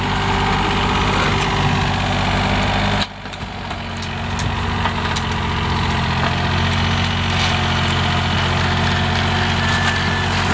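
A drilling rig's engine runs steadily while boring a borehole in sandy, caving ground, a loud continuous mechanical drone that dips briefly after a few seconds before resuming at full rumble, with no talk.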